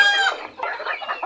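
Black and white silkie chickens after time outdoors: a rooster's bright crow fades into a short run of hen clucks, close and fairly loud, with no talking.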